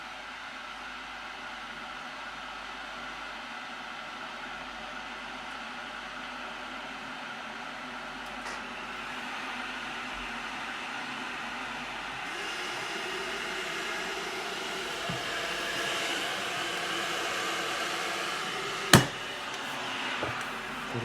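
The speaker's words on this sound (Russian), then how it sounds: "Чайник начал нагревать." Xiaomi electric kettle heating water, a steady broadband rushing hiss that slowly grows louder and fuller over about twenty seconds, with a single sharp click near the end; no talking.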